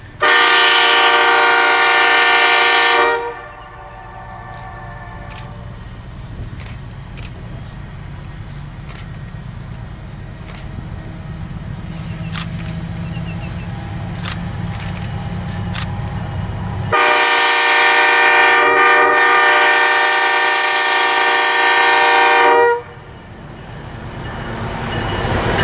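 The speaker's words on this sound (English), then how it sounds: "Here you can see the video of real FIA locomotives at work." Real FIA diesel locomotives at work, with a loud sustained multi-tone train horn sounding twice, at the start and again later, between stretches of rumbling engine and rail noise.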